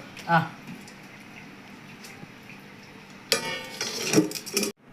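A lid goes onto a cooking pot in a home kitchen, a quick cluster of metallic clinks and rattles near the end after a quiet stretch with a faint early clink.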